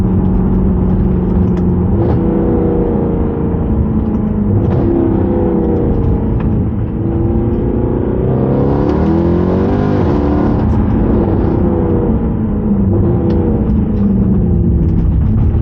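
A modified 2011 Mercedes C63 AMG Edition 125 V8 accelerates in a loud, continuous, raw engine roar heard from inside the car, rising and falling through the revs with a brief dip in the middle before pulling hard again.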